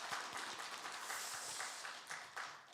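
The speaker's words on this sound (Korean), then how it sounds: "전동일 목사님께 우리 감사의 박수 한번 부탁하겠습니다" Congregation applauding a visiting pastor at a Korean church service, steady mid-distance clapping from many hands, sustained and fairly even throughout.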